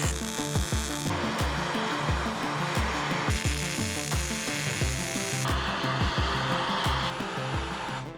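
A MAP gas torch roars steadily as it preheats a cast iron Jeep axle housing, a loud close hiss layered with rhythmic knocking and scraping in the shop.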